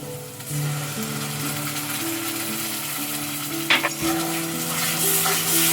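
Ground poppy seed paste stirred into frying spice masala in a pan for egg posto, a steady sizzle with scraping spoon strokes and a few clinks, fairly close and continuous, no talking.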